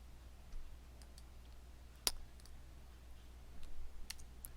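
Faint, sparse clicks from a computer mouse sound in a quiet room, a handful of isolated ticks with one sharper click near the middle and a couple more toward the end, over a low steady hum.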